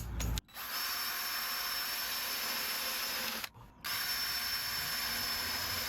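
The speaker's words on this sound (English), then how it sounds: "let's drill the next bit now." A power drill boring a 20mm hole for a slimline shore power inlet, a steady loud whine with a short pause near the start and another brief stop midway before drilling resumes.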